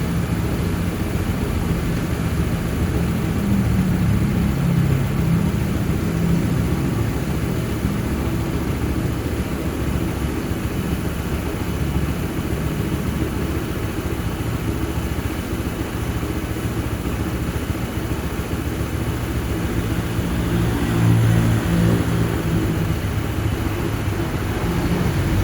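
A 2026 Honda PCX 160 scooter idles steadily nearby, its low engine hum constant and even throughout with no talking.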